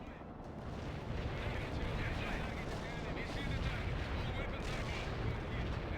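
Dense, continuous rumbling barrage of artillery fire in the World in Conflict strategy game, loud and steady with overlapping booms and no pauses.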